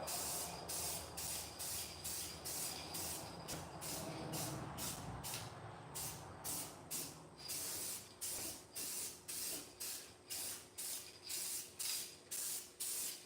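Krylon primer sprays from an aerosol can onto a race truck in a garage, first in a long continuous hiss, then in steady, evenly spaced short bursts, fairly quiet and close.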